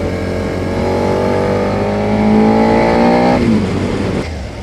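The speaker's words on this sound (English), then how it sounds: "got lovely little rasp to the sound that comes in on the intake, just below where the tank is here." A Suzuki SV650 motorcycle engine pulls steadily with a rising, raspy intake note heard from the rider's position, then the revs drop off suddenly near the end; no talk.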